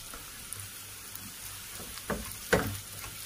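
Rice toasts in a small pan with a faint, low sizzle, and a couple of brief scraping stirs near the end stand out slightly louder.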